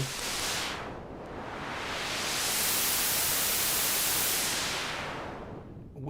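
Synthesized white noise modulated by an LFO on the Lagrange iPad synthesizer sweeps slowly, fading to a dull rush, swelling to a bright hiss, then falling away again in a whooshing cycle.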